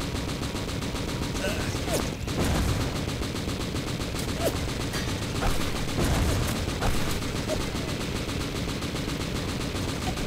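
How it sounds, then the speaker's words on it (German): Dense gunfire in the video game Übersoldier 2: rapid overlapping shots and automatic bursts rattle continuously with occasional sharper cracks and dull booms, loud and close, with a voice speaking now and then over the shooting. "Der Onkel Dietrich schießt genauso."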